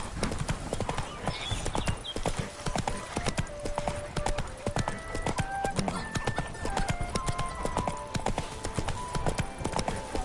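Roach the horse galloping in The Witcher 3 video game, a fast continuous clip-clop of hooves with a brief whinny, under game music and a distant voice.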